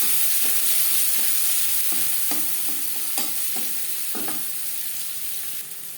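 Chopped onion sizzling in hot oil in a wok, with a spatula scraping and stirring in repeated strokes over a steady close frying hiss, no talk.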